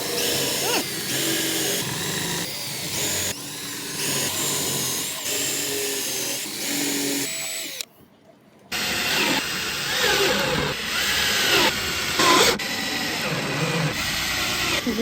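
A power drill drives screws into a DIY desk, whirring in repeated bursts close by, with a brief silent pause midway before the drilling resumes.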